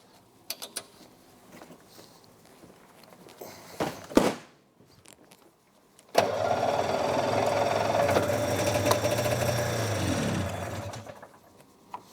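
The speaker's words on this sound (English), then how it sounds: "I think it's only running on one cylinder. I think only one carb. Bog's still there." Small carbureted engine running on one cylinder and bogging, first sputtering and cranking in brief bursts, then catching into a loud, rough, uneven run for several seconds before fading out.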